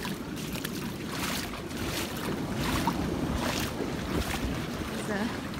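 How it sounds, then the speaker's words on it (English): Surf breaking along a Gulf beach, a steady, full wash of wave noise with rolling swells and wind gusts throughout, close and fairly loud, with no talking. "I can hear the waves crashing"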